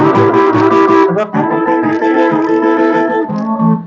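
A wind instrument plays a loud, close, harmonica-like blues phrase of sustained reedy notes with bends, heard alone.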